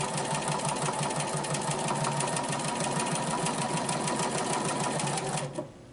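A sit-down sewing machine runs continuously at a fast, even stitching rate during free-motion quilting with a ruler, close and loud, then stops abruptly near the end.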